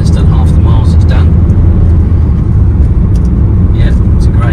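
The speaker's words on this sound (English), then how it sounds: "we're just giving it a little run up the road just to confirm that it drives like a van" A 2019 Vauxhall Vivaro 1.5 diesel van drives up a road, its engine giving a steady, loud low rumble from inside the cab, with faint speech-like sounds over the drone.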